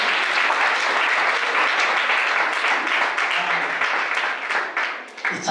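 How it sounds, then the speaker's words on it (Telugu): A church congregation at an annual Christian revival gathering bursts into sustained, dense applause, many hands clapping loudly and steadily before tapering off near the end, with no voices over it. "ఈ చప్పట్లు కూడా ఒకటి స్టార్ట్ చేస్తే చాలు అందరూ కొట్టేస్తారు"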